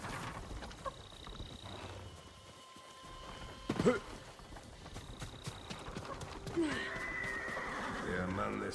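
Horses whinny and hooves clop in the Ghost of Tsushima video game, a sharp neigh rising midway over steady game ambience and movement, with voices talking across the clip.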